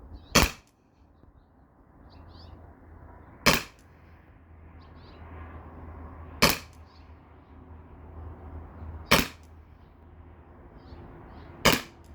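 A Salt Supply S2 HPA launcher fires Salt Kinetic impact rounds outdoors, five sharp, loud single shots spaced about three seconds apart, each a crisp crack over a quiet low background hum, with no speech.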